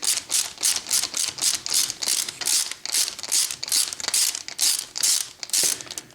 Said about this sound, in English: you're going to want to remove the rear A-arm from the transmission case by undoing the pin that holds them together